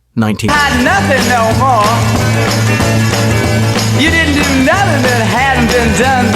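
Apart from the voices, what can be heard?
1960s garage rock song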